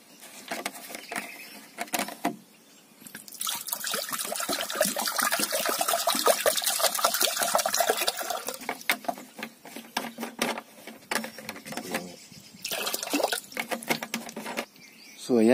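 Water being poured into a rice pot for cooking, a strong rushing splash that fills the middle of the moment, with handling clatter and bumps before and after.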